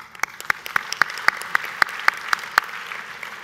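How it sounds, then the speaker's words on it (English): Rhythmic clapping rings out at the Conference of Presidents 50th anniversary gala: about a dozen crisp, evenly spaced claps, steady and fairly close, with no voices over them. "I'd like to give you another round of applause."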